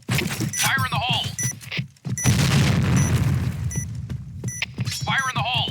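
Grenade explosion in the Point Blank shooter game, a loud broadband boom at about two seconds that rumbles and decays over several seconds, with voiced call-outs before and after.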